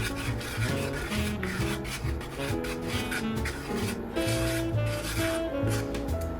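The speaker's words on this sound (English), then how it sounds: "add 1/4 cup of flour and stir that in" Flour stirred into hot olive oil in a skillet for a roux, a steady scraping and rubbing that runs continuously at close range with no talk over it.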